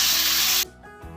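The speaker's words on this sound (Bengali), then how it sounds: "এবার আমি জলটা দিয়ে দিচ্ছি জলটা দিয়ে দিলাম" Water poured into a pan of hot fried spice paste for a rohu fish curry with potato and cauliflower, a loud hissing rush lasting about half a second and then cutting off into quiet.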